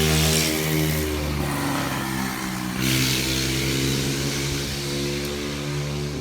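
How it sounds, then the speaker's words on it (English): Loud cars roar past on a road, a continuous, close engine drone that swells with revving as one vehicle after another goes by, with no voices. "there's been a lot of really loud cars going by for whatever reason"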